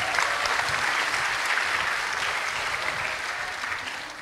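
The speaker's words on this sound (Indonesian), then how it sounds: "Boleh tepuk tangan untuk kita semua." A large crowd applauding at a youth protest rally over election results, sustained loud clapping that swells early and slowly fades, alone without speech.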